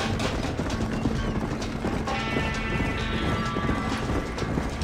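A horse gallops in the Wild West video game Red Dead Redemption during a horse race, its hooves drumming loud, fast and steady over dense in-game ambience, with a brief higher whinny-like tone partway through.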